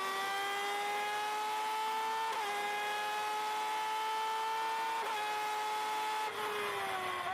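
Onboard sound of a North American F1000 race car at Barber: the engine wails steadily at high revs, dipping briefly at a few upshifts before climbing again, loud and continuous with no voices.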